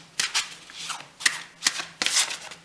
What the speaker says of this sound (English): they shuffle really nicely, as they often do